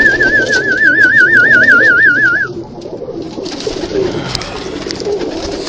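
Pigeons kept on a rooftop coo nearby against an outdoor background, while a loud warbling whistle rises and falls over the first half, and a few soft bird sounds follow.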